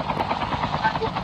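A helicopter in the game Call of Duty Mobile gives a steady, close rotor thrum, loud and continuous, with a voice talking over it.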